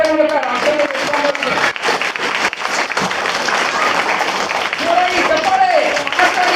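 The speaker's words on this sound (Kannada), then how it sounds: "ಎಲ್ಲ ಜೋರ ಚಪ್ಪಾಳೆ ಮೂಲಕ ರಾಮಚಂದ್ರ ದೇಶಪಾಂಡೆ" Audience applause at a felicitation gathering for teachers, parents and students: steady, dense clapping from a crowd filling the whole stretch, with a voice talking over it throughout.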